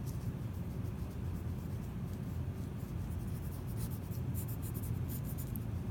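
Pencil sketching on paper while drawing a face in profile: a steady, close, soft scratchy rasp of graphite strokes runs continuously and evenly throughout, with no voices.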